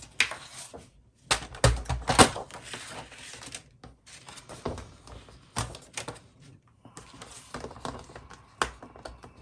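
Scissors cutting a sheet of paper close up in a quiet room, a series of irregular crisp snips and rustles with short pauses between them, fairly faint.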